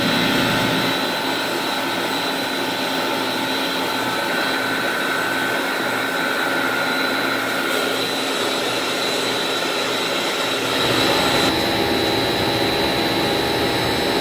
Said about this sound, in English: These are 40 horsepower motors. These are tech top, uh, pushing an Aurora pump.